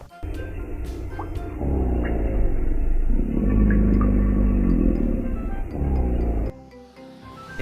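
A crocodile gives a deep, loud, sustained rumbling growl or bellow that swells in the middle and lasts several seconds, then cuts off abruptly.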